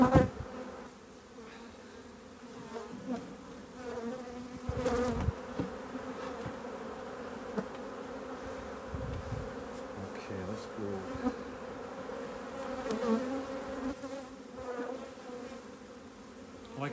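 Honey bees buzz steadily around an opened hive in an apiary, a dense, close drone that holds for the whole stretch with a few louder swells as bees pass near.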